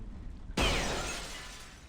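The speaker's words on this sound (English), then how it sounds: "you can just shoot off the rest of the glass like that" Gunfire in a Tomb Raider level editor game breaks a glass pane: quiet ambience, then one abrupt crash with bright fragments raining down and fading over about a second.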